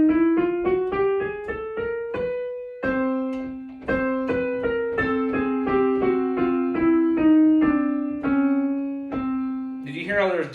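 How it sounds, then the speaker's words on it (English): Piano playing a chromatic scale: a steady run of evenly spaced notes moving up by half steps and then back down, each struck note decaying before the next, clear and close. "The chromatic scale is when you go from a note to its octave neighbor."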